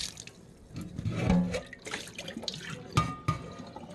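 Running water splashes over a cast iron pan being rinsed at a sink, with uneven pours and a couple of sharper knocks of the pan near the end, close and moderately loud with no talking.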